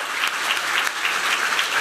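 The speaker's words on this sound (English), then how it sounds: "I feel like we should give another round of applause to the organizers." Audience applause for conference organizers at a design event, a steady dense wash of clapping from a crowd that stays even throughout, with no talk over it.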